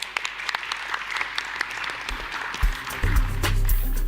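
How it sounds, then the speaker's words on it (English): Applause from a forum audience rises through the clip, starting as scattered claps and swelling into loud, dense clapping near the end. "let's give him a round of applause"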